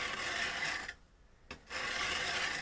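Wood chisel sharpened by hand on a sharpening surface, rasping back-and-forth strokes with a brief pause between passes, close and alone.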